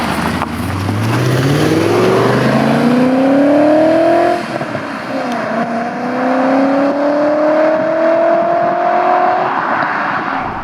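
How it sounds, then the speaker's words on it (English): A 2000 BMW E39 M5's big engine revs under load while driving. It gives two loud, rising pulls, first climbing steadily, then a brief dip at the shift, then another long climb in pitch. "That big meaty engine responding not super quickly, but quick enough."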